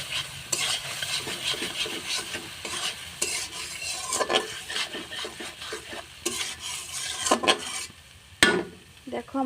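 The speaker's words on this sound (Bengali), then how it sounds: "শুকনো মরিচটা প্রথমে তেলে ভেজে নিব" Dried red chilies frying in hot oil, with a steady sizzle broken by repeated scraping stirs of a spatula against the pan; no voices.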